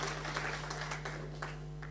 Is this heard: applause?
yes